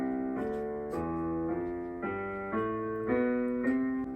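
A major scale played on keyboard keys, eight evenly spaced sustained notes stepping upward one after another, clear and close with no talking.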